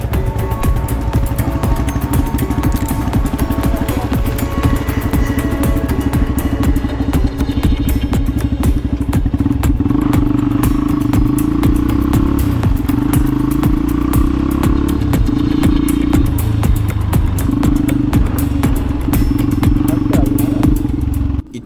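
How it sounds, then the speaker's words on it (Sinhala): A Honda XR 250R motorcycle runs loud and near on a road tour around Anuradhapura, its engine droning steadily with clattering and shifting pitch, buffeted by wind noise throughout. "ඉතින් මෙන්න මේ XR 250R බයික් එක මම පෞද්ගලිකව ගොඩක් ආසම් බයික් එකක්"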